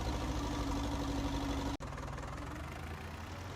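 An old, well-worn tractor idles steadily in Farming Simulator 19, a low, even engine hum that cuts out briefly for an instant and then resumes at a slightly lower, rougher note.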